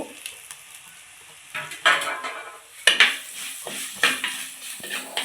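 Crushed coconut stirred into jackfruit thoran in a pan while village cooking: intermittent metal spoon scrapes and clinks against the pan over a faint sizzle, close and fairly quiet, with a few sharper knocks.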